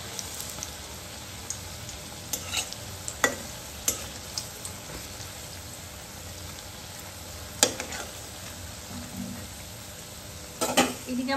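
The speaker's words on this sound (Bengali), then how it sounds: "সুন্দর ফেটানো হয়েছে যে তেলে দেওয়ার সাথে সাথে একদম ফুলকো ফুলকো হয়ে গেল" Phuluri fritters frying in hot oil give a steady, fairly quiet sizzle, with scattered utensil clicks and scrapes rising above the bubbling throughout.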